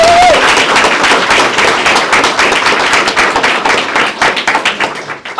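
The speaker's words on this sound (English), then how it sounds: "I want to give another round of applause for our custodial crew." An audience applauds the custodial crew, a burst of loud mixed clapping with sharp individual claps that thins out toward the end.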